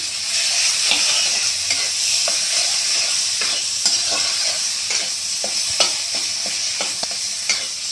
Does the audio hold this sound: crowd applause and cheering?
no